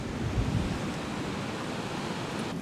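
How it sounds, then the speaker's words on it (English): Strong wind at around 30 miles an hour roars across a beach, mixed with the steady wash of surf, forming a continuous broadband rush with gusty buffeting on the microphone and no voices. "the wind is blowing like 30 miles an hour right now"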